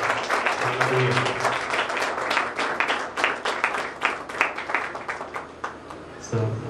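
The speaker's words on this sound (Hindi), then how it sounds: "हम ताली बजाएं।" A congregation claps in welcome during a special evening of praise and worship at a prayer house. The clapping is dense and sustained and runs under a voice that is also speaking.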